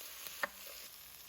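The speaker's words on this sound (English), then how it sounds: "Sauté the vegetables for a minute or 2." Diced potato and vegetables with bay leaves sauté in a pot for gluten-free clam chowder, giving a faint, steady sizzle with a light stirring clink near the start.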